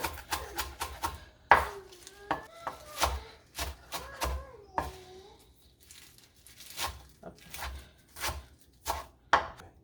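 Knife chopping spinach on a board for Ghanaian palm nut soup: rapid, uneven bursts of sharp, close chops, some faint voices and rustling between strokes.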